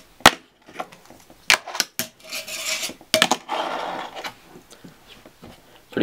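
Fingerboard clacks on a small rail: a nollie flip into a nose grind, with several sharp near wooden pops and taps followed by short scraping grinds, alone with no talk.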